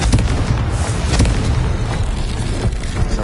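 Confringo fire blast spell exploding in a Harry Potter video game, a loud dense roaring burst that fills the whole stretch with rumbling booms and crackling blasts, no voices.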